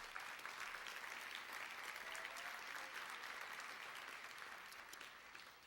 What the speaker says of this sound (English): Go ahead, you can applaud for John Anton.